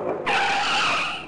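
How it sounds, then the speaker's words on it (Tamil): A scooter skids with a sudden, loud, sustained tire screech that starts sharply and holds for about a second before easing. "ஸ்கூட்டர் அலறியது."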